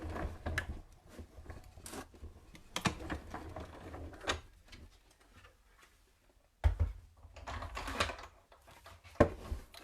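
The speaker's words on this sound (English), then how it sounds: "You then put your card on or whatever you're cutting and then your die over the top. Wheel this through." A card and die are cranked through a manual die-cutting machine for a handmade Christmas card, giving bursts of clicking, ratcheting mechanical noise separated by quiet pauses.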